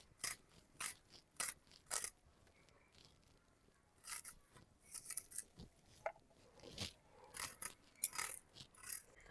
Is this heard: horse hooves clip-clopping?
no